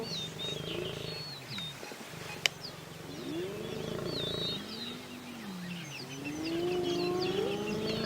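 A group of lions roars and growls together, rising and falling moaning calls overlapping at moderate distance, with faint birdsong in the background.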